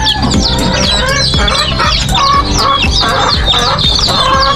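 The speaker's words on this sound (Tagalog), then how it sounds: "mga sisiw mga sisiw ng manok" Chicks clucking and chirping continuously, several birds at once, close and busy in a backyard brooder, with no talking.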